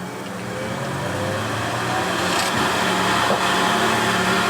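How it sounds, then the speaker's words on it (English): A wood lathe spins up and runs with a steady low motor hum and broadband whir, growing slightly louder over a few seconds, with no voices over it. "I start by poking the middle here roughly by eye and turn on the lathe"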